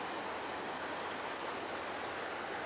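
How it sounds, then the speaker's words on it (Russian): The Razdolnaya river near Pokrovka, swollen after heavy rains, rushes past in a steady, dense roar of flowing water, close and continuous with no voices. "под шум реки"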